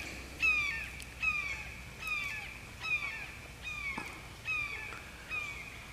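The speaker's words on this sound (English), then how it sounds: "I don't know what that hawk is upset about" A hawk calls again and again outdoors, sharp downslurred cries repeating in a steady rhythm about once a second over faint background hiss.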